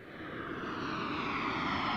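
Airplane engine as a sound effect in a radio ad, a steady broad droning roar that swells slightly, heard alone without talk.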